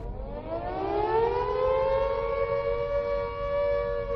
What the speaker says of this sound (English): Raid siren.